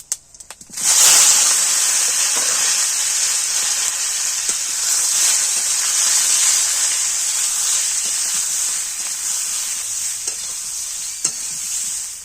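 Olives and five-spice seeds hit hot oil for an olive pickle, bursting into a loud, close hiss of sizzling that settles into a steady frying crackle with occasional pops.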